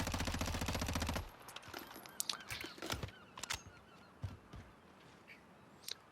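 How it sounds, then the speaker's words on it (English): A video game gun fitted with a commando foregrip fires a fast, even burst for about a second, followed by quieter scattered game sounds and a few faint sharp hits; nobody talks. "Here is recoil with the commando foregrip."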